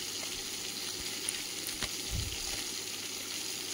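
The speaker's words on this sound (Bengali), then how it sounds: "তো দ্বিতীয়বার আবার বাকি মাছগুলো ভেজে নেব।" Tengra fish fry in plenty of hot oil in a pan with a close, continuous crackling sizzle, and a brief stirring clatter comes partway through.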